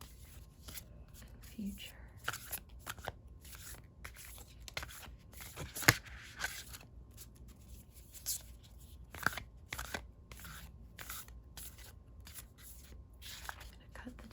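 A Moonology oracle card deck is shuffled close-up in soft, papery riffles and flicks with scattered crisp taps, while a quiet voice speaks softly over it.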